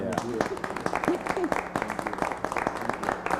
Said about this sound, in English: I'll clap for the team.